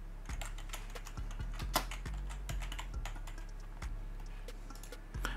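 Rapid keystrokes on a computer keyboard, a close, irregular run of light clicks with a few heavier taps, steady throughout with no voices.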